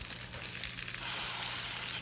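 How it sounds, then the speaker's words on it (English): Wahoo fish balls sizzle steadily in a hot frying pan, a close, constant crackling hiss with no talking. "They're all in there sizzling away now."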